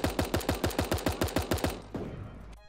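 Rapid full-auto SMG burst in Super Animal Royale, around a dozen evenly spaced loud shots over about two seconds, then a short decaying tail and a faint click.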